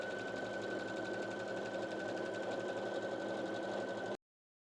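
A sewing machine stitches a skirt seam in a fast, steady whirring run with a constant motor hum, close up, then cuts off abruptly.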